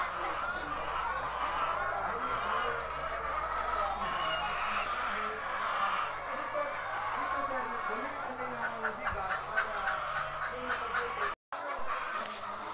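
Egg-laying hens clucking on a farm in Barangay Cantanghos, Baybay, Leyte, a steady chorus of fowl calls heard under continuous talk, with a brief dropout near the end.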